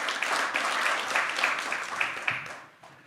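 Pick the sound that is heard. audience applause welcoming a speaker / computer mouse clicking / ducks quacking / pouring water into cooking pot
audience applause welcoming a speaker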